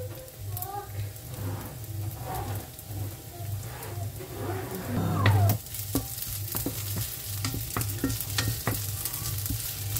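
Onions fry and sizzle steadily in a pan with brown sugar, stirred now and then, a constant close hiss with scraping clatters and a brief louder burst midway, no talking.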